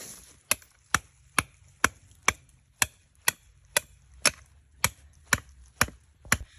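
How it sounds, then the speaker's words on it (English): A dozen sharp, evenly spaced hammer strikes drive a trap stake into partly frozen ground, each blow crisp and close with a short ring, no voices. "Alright, got my stake pounded in."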